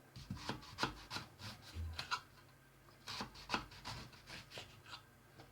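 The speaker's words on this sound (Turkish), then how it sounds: "Son patlıcanımı da kesiyorum şimdi" A knife cuts through eggplant on a board with a quiet series of rhythmic slicing strokes, about a dozen soft rasping cuts in close succession, with no talk.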